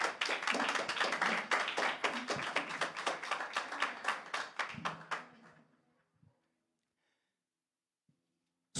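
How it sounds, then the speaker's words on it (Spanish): A church congregation claps for several seconds in distinct, fairly rhythmic beats that thin out and fade away, leaving near silence with a few faint shuffles. "Ofrécele un aplauso al Señor."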